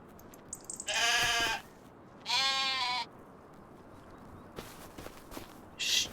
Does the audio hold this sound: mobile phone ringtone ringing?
no